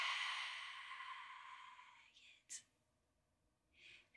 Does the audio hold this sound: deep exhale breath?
yes